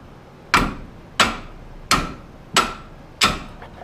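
Five loud, close metallic hammer strikes on a wrench, evenly spaced, as a 1997 Ford Mustang SN-95 is being lowered in a garage.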